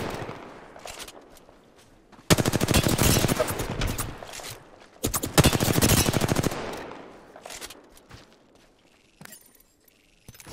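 Rapid automatic gunfire in a video game, two long loud bursts of fast repeated shots separated by a pause, followed by quieter scattered shots and faint movement sounds.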